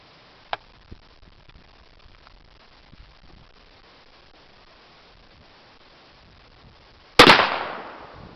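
A single sharp, loud shotgun blast fired at a chalk-filled flash clay target rings out near the end after a long quiet stretch, its echo trailing away; only a few faint ticks come before it.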